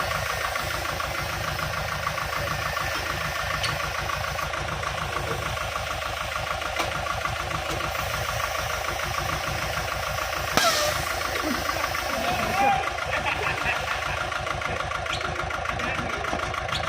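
A Kubota tractor engine runs steadily at idle with a dense mechanical chug throughout, while the hitch is raised; a couple of brief clanks stand out near the end.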